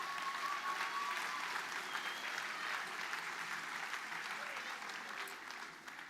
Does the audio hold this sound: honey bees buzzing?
no